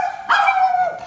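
A pet dog gives one loud, close, sharp bark with a slightly whiny tail inside a house, heard alone without talk.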